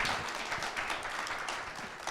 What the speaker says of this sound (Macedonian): Аплауз еден голем за Елена.